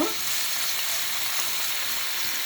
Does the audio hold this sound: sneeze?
no